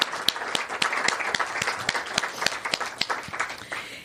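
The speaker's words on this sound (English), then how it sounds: "Let's give one more round of applause to Chris Cokinos." Audience applause at a literary talk on birds and poetry, a steady patter of many hands clapping with some sharper nearby claps standing out, moderately loud and continuing without speech for several seconds.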